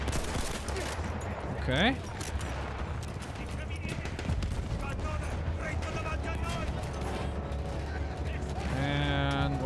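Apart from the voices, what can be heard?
gunfire from an enemy vehicle, from video game Battlefield 1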